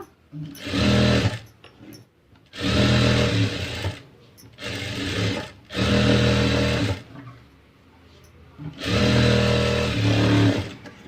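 A sewing machine stitches a princess-cut blouse in four loud bursts of whirring, separated by short pauses, with no talking.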